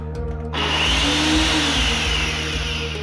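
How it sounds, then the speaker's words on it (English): A blender switches on abruptly after a brief quieter moment and then runs loud and steady, a continuous whirring motor with slight rhythmic pulsing, close by and without speech. "A blender."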